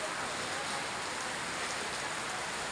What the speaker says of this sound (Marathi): या वातावरणामध्ये येडशी नगरामध्ये आता खूप आणि असं मोठ्या प्रमाणामध्ये पावसाचे आगमन झालेलं आहे